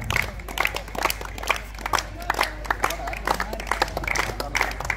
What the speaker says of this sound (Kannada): ಜೋರಾದ ಚಪ್ಪಾಳೆಯ ಮೂಲಕ ಈ ಒಂದು ಕಾರ್ಯಕ್ರಮಕ್ಕೆ ಚಾಲನೆ ನೀಡುತ್ತಿದ್ದಾರೆ